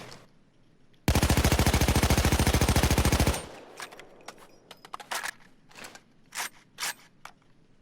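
Sustained automatic fire from an AKMSU Krinkov carbine in Payday 2, a dense rapid burst lasting about two seconds, loud and close, followed by scattered mechanical clicks and handling noises.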